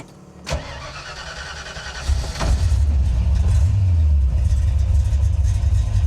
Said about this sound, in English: Man, I love this little engine in this car.